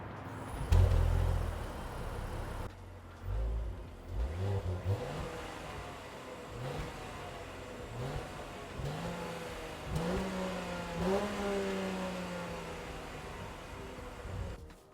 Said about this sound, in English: take a listen to this engine.